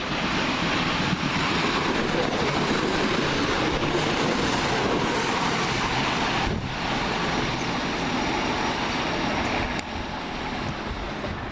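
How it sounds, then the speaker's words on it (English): A Southern Railway class 313 electric train departing Hilsea station, a broad, steady rumble and rush of wheels and motors rolling past close by, with wind buffeting the microphone and no voices. "It's now getting ready to leave the 10:42 Southern Railway service from Littlehampton to Portsmouth and Southsea."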